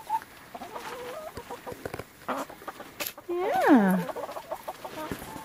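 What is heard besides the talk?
chickens clucking in the snow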